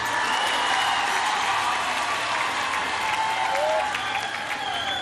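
Continuous, dense applause fills the clip from a large crowd at a Women's Day celebration, a steady wash of clapping with scattered whistles and no clear speech.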